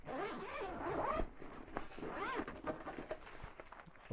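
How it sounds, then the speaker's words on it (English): Zippers on an Incase A.R.C. Daypack backpack are worked open and shut in several quick, raspy pulls, close and clear with small handling rustles between them. "I know you're hearing a lot of zipping at the moment because I'm testing it in real time."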